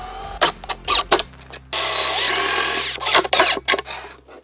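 Power drill driving screws into the L brackets of a 36-inch-wide wall cabinet, heard as several short bursts followed by one longer sustained whirring run, then more brief bursts, close and loud with no talk.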